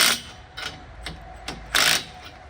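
A ratchet wrench with a 3/4 inch socket starts bolts on a Rhinohide tractor canopy. Five short, fairly quiet bursts of clicking sound at irregular intervals against a low background hum.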